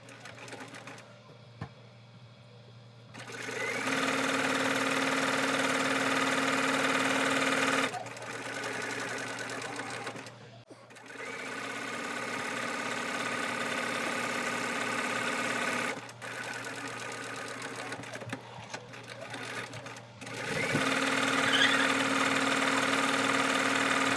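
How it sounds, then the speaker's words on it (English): A sewing machine stitches the seams that join six fabric panels into a tube for a Halloween trick-or-treat basket. It whirs loudly and close in several long bursts, with short pauses between the runs. "Keep matching up each side with another and sew until all 6 pieces are sewn together and it forms a tube."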